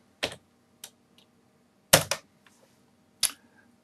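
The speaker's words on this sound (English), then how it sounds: "and type in Google" Computer keyboard typing: a few separate sharp key clacks and a quick double strike, close and loud against near silence, with no talk.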